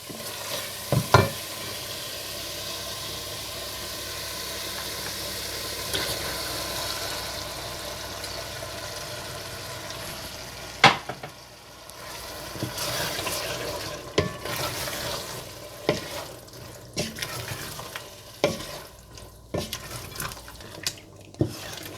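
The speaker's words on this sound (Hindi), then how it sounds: "थोड़ा भूनने के बाद इसमें उबली हुई दाल डालकर मिला लें।" Boiled lentils stirred into a frying tomato, yogurt and dal masala mixture, with a steady sizzle under repeated scraping and clinking of a spoon against the pan, close and continuous.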